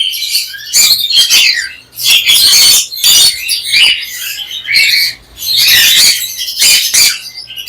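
Albino cockatiels at the Tongi bird market squawk loudly and repeatedly at close range, shrill harsh calls in quick bursts with short pauses between them.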